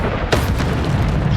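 Bombarda blasting spell in the Hogwarts Legacy video game, a single loud booming explosion that bursts suddenly and rumbles on in a dense roar, close and alone without talk.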